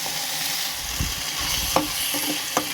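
Macaroni pasta being stirred with tomato ketchup in a pan, a steady sizzle of frying underneath with a few soft scraping stirs standing out near the end.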